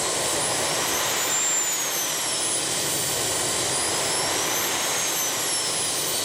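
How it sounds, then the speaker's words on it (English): An RC model jet's turbine engine runs up from idle, giving a loud, steady high-pitched whine and roar with a rising tone that holds for several seconds, close by with no voices. "now I can accelerate and operate the turbine normally."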